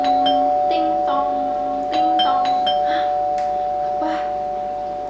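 Doorbell chime added as a sound effect in a horror webtoon reading, ringing in several repeated ding tones over a steady electronic hum, fairly loud and clear with no talk.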